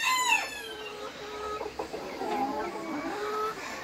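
A rooster crows at the start, followed by steady clucking from nearby Brahma chickens, close and clear with no voices.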